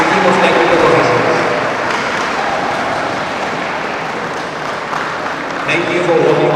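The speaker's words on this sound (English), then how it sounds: "A very, very big round of applause." At the closing ceremony of a badminton championship, a standing audience applauds the referee and technical officials with sustained, moderately loud clapping that swells again near the end, with voices mixed in.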